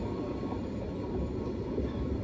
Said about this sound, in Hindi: ये मेट्रो है जहाँ से मैं आया हूँ।